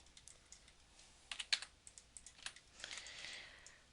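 Keys on a computer keyboard are tapped in quick, irregular bursts at close range, a short typed command in an otherwise quiet room.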